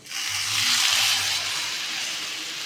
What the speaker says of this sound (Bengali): এই যে মশলাটা কষানো হয়ে গেছে, এখন দিয়ে দেবো জল